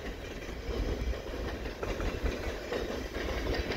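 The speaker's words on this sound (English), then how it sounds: "just in time for this freight train" CP freight train rolling past at night in winter, a continuous rumble with rhythmic clickety-clack of wagons on the rails, moderately distant and alone.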